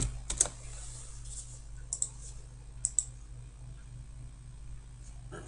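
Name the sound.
typing on a computer keyboard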